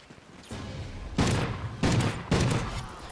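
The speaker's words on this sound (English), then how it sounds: "It's a shotgun!" Shotgun fire in Call of Duty Ghosts gun game: three heavy blasts spaced roughly evenly, each with a booming tail, over a low steady game background.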